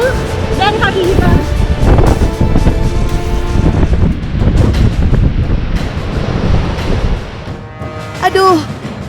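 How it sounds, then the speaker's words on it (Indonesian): Strong wind buffets the microphone over crashing ocean waves at Sriti cliff, a loud continuous roar with surging surf. "di sana ombak, anginnya kencang banget."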